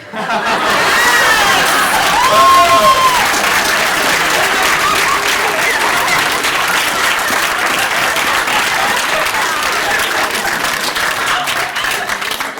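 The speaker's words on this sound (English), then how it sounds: "I just want to have one last round of applause, a big round of applause" A large audience applauds steadily for several seconds, loud dense clapping with a few cheers and murmurs mixed in.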